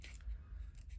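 Scissors snip along the edge of paper for a Christmas cracker, a brief, quiet, close cutting sound.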